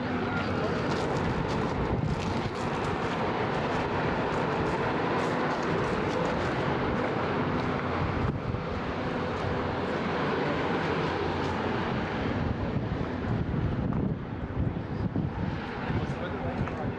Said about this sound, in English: I think it's going to get pretty windy up this way.